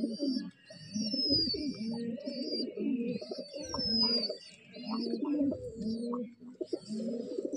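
Giribaz pigeons cooing in a steady, overlapping stream of low, throaty coos, close and fairly loud, with faint higher chirps from other birds in the background.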